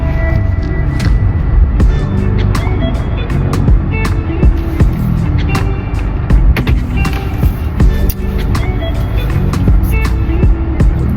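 Loud, steady road rumble and engine drone fill the interior of a moving car, with scattered small clicks and knocks over it and no clear speech.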